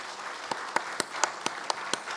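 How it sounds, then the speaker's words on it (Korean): A church congregation at a Sunday service claps to welcome a member to the front, with single claps landing in a loose, steady rhythm at low volume. "우리 한번 큰 박수로 우리의 성도님 맞아주시기 부탁드립니다."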